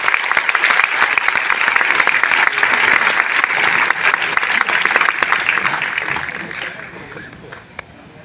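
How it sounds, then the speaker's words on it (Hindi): A loud, sustained round of applause for mentors and top leaders at a Mi Lifestyle business gathering, thick crowd clapping that holds strong, then tapers off and fades near the end. "तो एक जोरदार तालियां इन सभी लोगों के लिए।"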